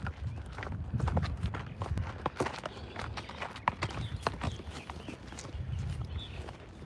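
Horse hooves clip-clopping at a walk, a series of close, moderately loud knocks in an uneven rhythm over a quiet background, with no talk.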